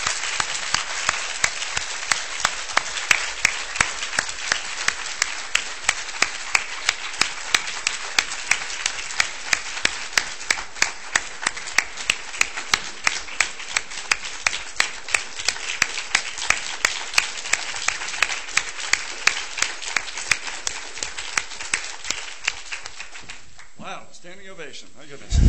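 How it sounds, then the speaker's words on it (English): Sustained audience applause at a health services research lecture, dense steady clapping that fills the room for over twenty seconds before tapering off at the end. "I hope you will all join me in a round of applause thanking him for all he's done for our department"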